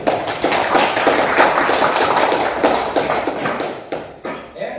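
A classroom group claps for the first presenting group during a teaching assessment session. The applause is dense and close, with many hands going at once, and it thins out into a few scattered final claps.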